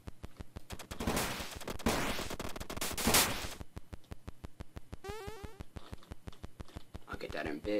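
Machine gun fire in the shooting game Wolfe, rapid rhythmic bursts of shots, dense and loud at first and then a steady repeating chatter, with other game effects mixed in.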